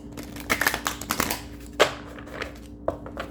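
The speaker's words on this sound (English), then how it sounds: "another good shuffle" A deck of tarot cards gets shuffled in a quick run of crisp riffling and slapping bursts, close and fairly soft, with brief pauses between flurries and no talking.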